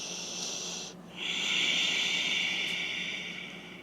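Slow, deep breathing during a power vinyasa yoga pose: a long airy inhale or exhale, a brief pause, then another sustained breath, close and hissing.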